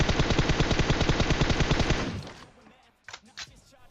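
A rapid burst of automatic gunfire in PUBG Mobile rattles for about two seconds, then cuts off, followed by a couple of faint, brief sounds.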